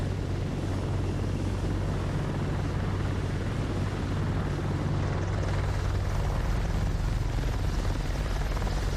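A helicopter engine heard from outside in Microsoft Flight Simulator 2024 drones with a steady, beefy bass-heavy rotor thrum, loud and unbroken for the whole stretch, with no voices.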